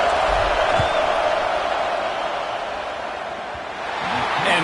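A stadium crowd in an American football video game sends up a steady, dense roar of noise during a long field goal attempt, loud and sustained throughout, with faint voices mixed in.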